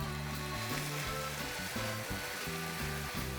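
Coriander chutney with chilli powder and salt is stirred in a hot pan, giving a steady, close sizzle and frying crackle that runs continuously without pause or voices.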